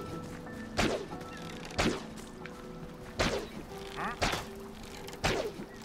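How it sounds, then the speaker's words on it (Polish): Slayer crossbow shots in the video game Minecraft Dungeons: five sharp, heavy thwacking releases at irregular intervals, each with a brief whooshing tail over a low game backdrop. "Kusza pogromcy, jaki w ogóle dźwięk."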